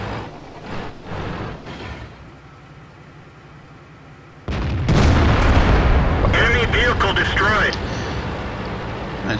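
The KV-2 tank's gun fires in a tank video game: a deep muffled boom early, a quieter lull, then a sudden heavy blast with rumbling debris and ringing that stays loud, with talk over parts.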